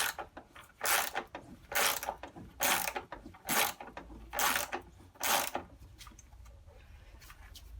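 A socket ratchet works at a tight bolt on an Indesit washing machine, about seven short bursts of rapid clicking in a steady rhythm, close and clear, with no talking.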